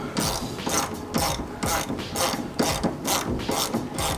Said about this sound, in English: So pop this bottom bolt that holds it to the lower control arm.